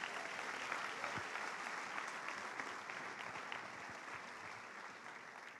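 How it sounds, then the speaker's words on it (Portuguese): A church congregation claps together during a worship service, a steady dense wash of applause that is fairly distant and moderately quiet, gradually tapering slightly. "Dê um aplauso ao Senhor"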